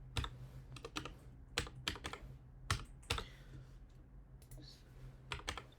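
Soft keystrokes on a computer keyboard while a password is typed, irregular clusters of close clicks with short pauses, quiet and alone.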